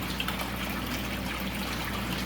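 Water trickles steadily as it drains from a bucket into the sump compartment of an indoor aquaponics system, a continuous close splashing flow with a faint low hum underneath.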